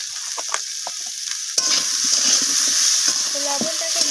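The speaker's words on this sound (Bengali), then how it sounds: "তো লবণটাকে দিয়েও আমি আবারও নাড়াচাড়া করে ভাজা ভাজা করে নিচ্ছি" Cubed potatoes and papaya with added salt are stirred and fried, quiet at first, then a louder continuous sizzle begins with repeated spatula scrapes and clacks against the pan.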